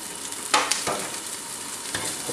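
Cooked ham and chili sauté in a pan, giving a steady close sizzle with a few brief stirring scrapes.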